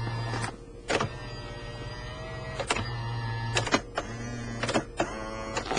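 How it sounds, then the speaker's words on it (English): Electric motor of a Lexus LS400's power steering column whirring as it drives the wheel in and out, a steady mechanical hum in several stretches punctuated by clicks and clunks as the motor starts and stops. "Obviously the steering wheel's electric, I don't think I've demonstrated that before."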